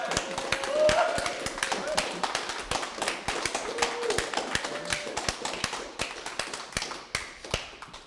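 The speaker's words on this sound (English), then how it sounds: "if everyone could give Taylor an applause" A small audience claps for the artist Taylor at the close of an artist talk, a brisk patter of separate hand claps with sharp taps standing out, fairly close and moderately loud, with faint background tones.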